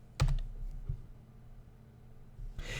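A single key press for enter on a computer keyboard at a desk during spreadsheet formula entry, one clear near click followed by a quiet pause and faint rustle.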